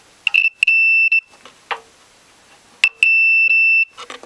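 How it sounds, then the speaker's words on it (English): Two sets of sharp electronic beeps from a tester checking earth on the metal chassis of a Landis & Gyr prepayment meter box, each a short chirp followed by a sustained tone, with faint handling noises between. "it should beep when I touch earth on the chassis of this meter box"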